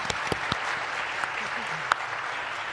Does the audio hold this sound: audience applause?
yes